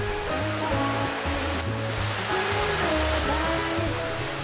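A stream flows past a house in the Korean countryside, giving a steady, full rushing of water that stays even and close throughout, with no voices.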